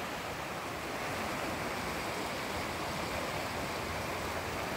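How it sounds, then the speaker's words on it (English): Steady broadband rush of a river flowing outdoors in a natural setting, a continuous wash of moving water heard alone at moderate distance with no voices over it. "right here the air is fresh, the river is flowing."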